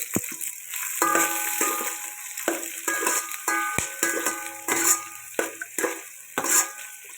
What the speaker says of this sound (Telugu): ఉల్లిపాయలు పచ్చిమిరపకాయలు దాచిన చెక్క లవంగాలు వేసాను యాలక్కాయలు కూడా రెండు వేసాను ఇవి వేగాలి